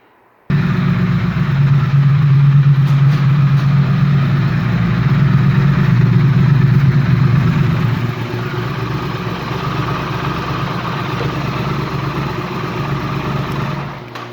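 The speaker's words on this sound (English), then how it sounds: "I'm going to start the bike, warm up the oil" A 2016 Triumph Thruxton 1200 motorcycle fires up and settles into a steady, close, low rumbling idle, easing slightly in pitch and loudness partway through as it warms in a garage.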